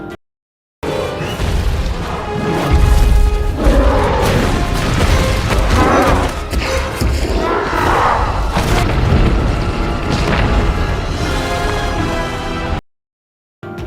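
Temple ruins collapse and crash down in a film scene, a loud, continuous rumble of booming crashes and falling debris sustained for about twelve seconds, with layered impacts and no speech.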